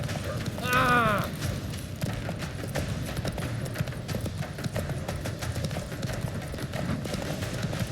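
Roach, a horse in The Witcher 3, gallops with a steady clip-clop of hooves throughout, a brief whinny near the start, and a voice exclaiming over the running hooves.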